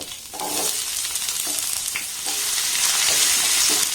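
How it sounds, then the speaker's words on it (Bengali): Sliced onions frying in mustard oil in a pan give a steady, loud sizzle with a few scraping stirs, continuous throughout and with no voices. "এবার এখানে যে পেঁয়াজগুলোকে কেটে নিয়েছি সেটাকে আগে দিয়ে দেব"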